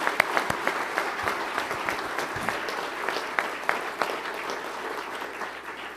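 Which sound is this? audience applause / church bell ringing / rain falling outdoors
audience applause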